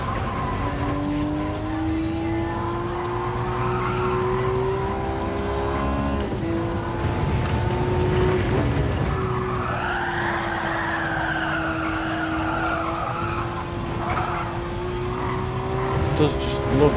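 A race car in Gran Turismo 7 slides sideways under heavy braking into a corner: a sustained engine drone with long wavering tire squeal and skidding, while someone talks over it.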